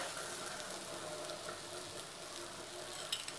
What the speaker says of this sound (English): Fry both the sides till nice golden brown